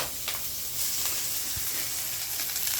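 Moringa leaves frying in a spoonful of oil over a low flame, a dense, continuous hiss and sizzle at close range with faint crackles, steady for its whole short length and with no voices.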